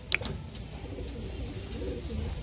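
Pigeons in a loft give a low, steady cooing and murmuring throughout, with a couple of brief sharper sounds at the start and no talking.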